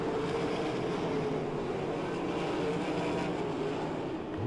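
Race cars circling a dirt oval at a county fairground track, a steady distant wash of engine drone with no break, moderately loud and continuous throughout.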